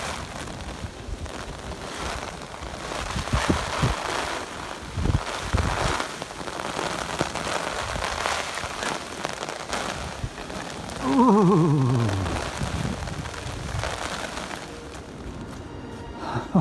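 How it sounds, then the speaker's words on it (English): A rain shower patters steadily onto a waterproof ground sheet at an outdoor stop near an old sandstone quarry. The hiss is continuous and moderately loud, and some handling noise and a brief sliding tone break through. "here comes the rain"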